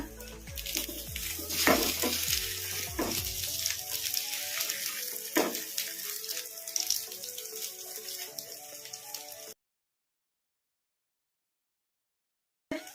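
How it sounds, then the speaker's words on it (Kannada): Omelet bonda frying in a pan, a steady crackling sizzle of oil with a few sharper pops and spatters, fading to quieter bubbling before cutting to silence. "ಇನ್ನು ಒಂದ್ ಎರಡು ನಿಮಿಷ ಫ್ರೈ ಮಾಡಿಕೊಂಡು ಪ್ಲೇಟಿಗೆ ತಕ್ಕೊಂಬಿಡೋಣ"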